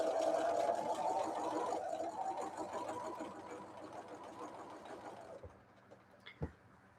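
A sewing machine stitches quilt pieces at a moderate, fairly quiet hum that fades out after about five seconds, followed by a couple of small clicks.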